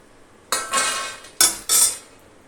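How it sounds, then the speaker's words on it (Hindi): Roasted makhana (fox nuts) scooped out of a kadhai with a metal spoon: two pairs of dry, rattling scrapes and rustles, close and moderately loud, with quiet pauses between. "मखाने का पहला बैच भुन गया है, इसको निकाल लेते हैं।"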